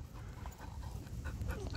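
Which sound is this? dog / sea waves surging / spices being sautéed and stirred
dog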